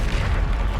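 Bombarda spell explosion in the video game Hogwarts Legacy: a short, deep, rumbling boom that fills the whole brief moment, loud and close with no voices over it.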